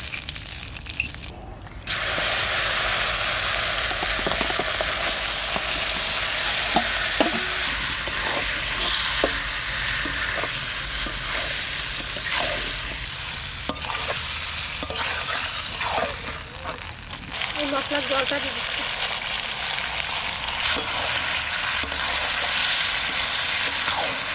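Duck meat sizzles loudly in a pan with cumin and dried chilli, a constant hiss of frying with occasional stirring scrapes and no talking.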